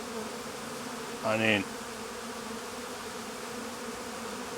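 Honeybees buzz around an open hive in a steady, close drone, with someone briefly speaking over the humming partway through.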